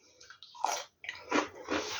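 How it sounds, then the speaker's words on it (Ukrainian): Cucumbers eaten alongside boiled potatoes and fried meat in tomato sauce, heard as a few close, wet crunching bites separated by short pauses, with no speech. "Огірочки так хруморсять."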